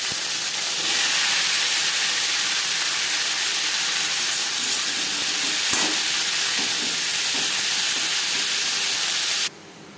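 Yardlong beans (borboti) fry in hot refined oil with a loud, steady, dense sizzle that holds unbroken for nearly the whole stretch before dropping off sharply at the very end.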